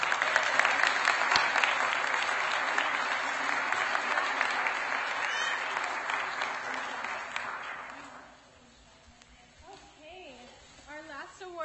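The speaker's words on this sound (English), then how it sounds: "So please give Danny a round of applause" Warm applause fills a school district governing board meeting room for several seconds, then fades out and gives way to a speaker talking.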